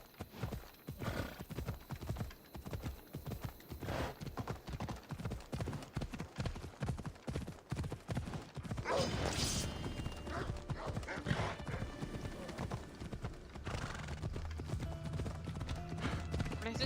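Horse hooves clip-clop rhythmically over ground in Assassin's Creed Odyssey, steady paced steps heard close with a whinny and shifting game ambience partway through.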